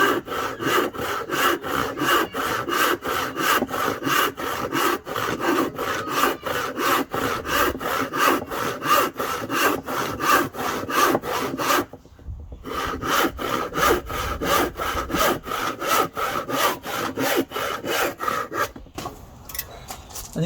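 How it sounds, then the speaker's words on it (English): A hand saw rasps through scrap wood held against a bench hook, making steady rapid back-and-forth strokes that continue nearly throughout, with one brief pause midway and a short break near the end. "get my saw, and I can hold the wood against it"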